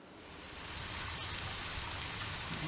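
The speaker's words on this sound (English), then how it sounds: "It's raining." Steady hiss of rain falling in the video game Deadly Premonition, a dense even wash of drops with no voices.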